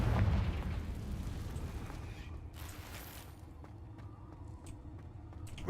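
In the Harry Potter video game, a Confringo blast spell goes off as a deep rumbling boom that is loudest at the start, then settles into a long low roar, with faint crackles and small impacts after it.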